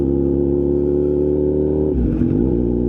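Kawasaki Z900RS motorcycle fitted with a Wirus Win slip-on exhaust, heard on a road test: a steady, loud engine drone that drops in pitch and roughens near the end as the revs fall, with no talk over it.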